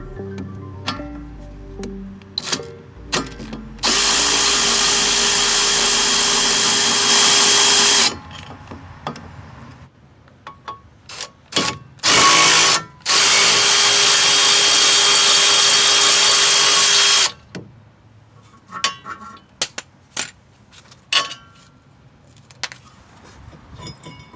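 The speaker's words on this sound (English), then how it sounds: "remove the two caliper bracket bolts using a 13mm socket" Power drill or impact tool spinning out the caliper bracket bolts on a 2006-2013 Chevy Impala during rear wheel hub replacement, two long loud sustained whirring bursts separated by short clicks and clanks, no talk.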